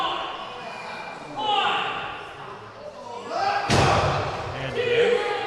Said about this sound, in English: Kemp just slammed Patrick's head into the ring apron.